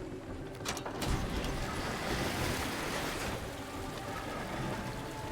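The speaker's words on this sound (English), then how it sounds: "if I drain the water out from this machine now" Water draining from a machine in the Myst IV Revelation game, a loud continuous rushing wash like surf, with a brief splashy burst near the start before settling into a steady flow.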